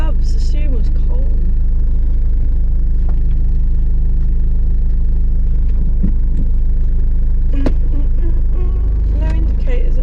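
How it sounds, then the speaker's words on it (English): A Rover 75 saloon car is driven with a loud, constant low engine and road rumble filling the cabin, with a few faint clicks and knocks over the steady drone. "let's go driving a modern car"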